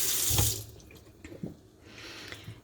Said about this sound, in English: I'm going to rinse that off